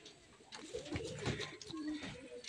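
A caged pigeon gives soft, low cooing calls in short bursts, faint and fairly close, with a little background noise around it.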